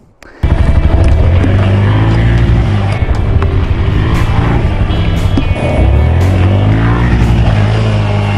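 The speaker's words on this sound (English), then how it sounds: "legendary enduro motorcycle, the Yamaha XT660R" A Yamaha XT660R enduro motorcycle with its factory exhaust fires up after a brief quiet start, then holds a loud, close, throbbing single-cylinder drone with slight rev swells and a short dip midway.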